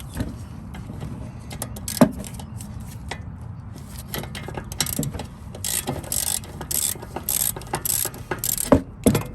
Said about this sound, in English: we're going to go ahead and break loose this 17mm nut. And lefty loosey.